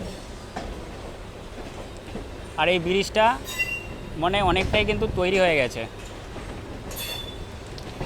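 Rumbling rail noise from a local train departing Howrah station, a steady low roar with clatter carrying under a man's speech.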